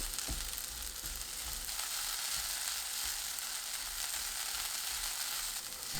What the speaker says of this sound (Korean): 팬 또는 냄비에 감자, 들기름 2큰술 넣고 중불로 2분 30초 볶아주세요